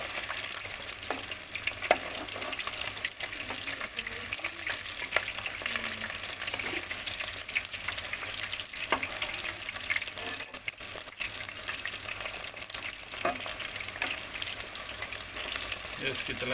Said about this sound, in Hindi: इसकी तलाई तकरीबन मुकम्मल हो चुकी है